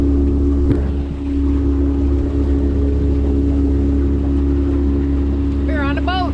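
A motorboat engine drones loud and steady throughout a boat cruise, with constant wind and water noise and a brief whistle-like sound near the end.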